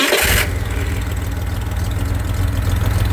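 A 2.9 engine, probably fitted in an Ultravan, cranks briefly and catches, then settles into a steady, loud, low idle rumble with no voices.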